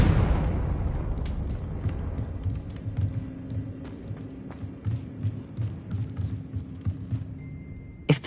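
A Confringo blasting spell detonates in Hogwarts Legacy, a loud booming explosion right at the start whose deep rumble decays over several seconds, followed by scattered debris clatter and thuds.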